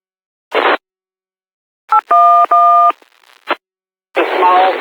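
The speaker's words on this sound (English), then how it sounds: "GP40-2s have radio transmissions that you can hear when you're driving them" Locomotive radio transmission tones heard while driving a GP40-2 in the Trainz game: short noise bursts of squelch and a few clear two-tone beeps, separated by gaps, loud and close with no talk.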